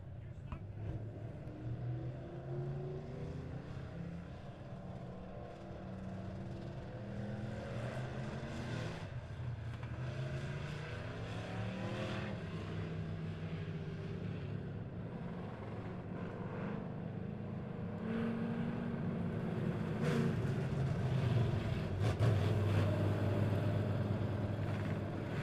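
Race cars rolling onto a short track at Monett Motor Speedway for a heat race, a faint, steady engine drone at a distance that builds slightly toward the end.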